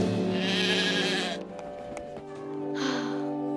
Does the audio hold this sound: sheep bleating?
yes